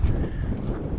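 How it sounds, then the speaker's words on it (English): Wind gusting across an exposed mountain ridge on a hike up Tryfan in Wales, a steady broadband rush buffeting the microphone throughout. "The wind's got up"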